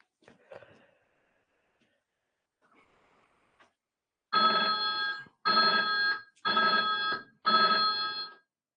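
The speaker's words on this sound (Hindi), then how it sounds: "आपको आवाज आई हवेली में फोन बजने की?" A telephone rings in four loud, evenly spaced electronic trills, each about a second long, after some faint indistinct sounds and a brief quiet stretch.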